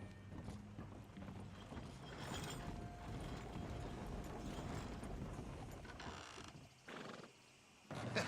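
Horse hooves clip-clopping in the Red Dead Redemption 2 video game, a steady run of faint hoofbeats with mechanical creaks underneath, fading to near silence before a brief return.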